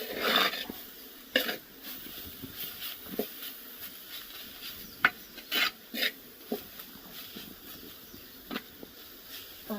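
Grated coconut is stirred into a yellow turmeric curry in a pot, with a spoon rasping and scraping against the pot in short, irregular strokes over a faint steady background hiss.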